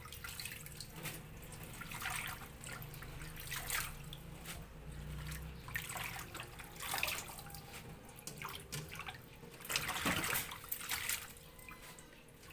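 Saluyot (jute mallow) leaves are rinsed in water in a sink: steady running and splashing with irregular sloshes and drips, close and fairly quiet throughout.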